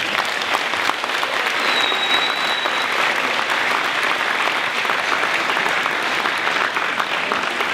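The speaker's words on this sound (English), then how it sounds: "Let's give your parents a big round of applause." A commencement audience at a 2016 communication and technology school ceremony applauds steadily, a dense, loud wash of clapping that holds evenly from start to finish with no talk over it.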